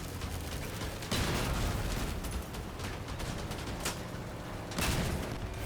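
A vehicle-mounted gun in the Crossout vehicle combat game fires in sustained rapid bursts, loud and close, swelling at two points.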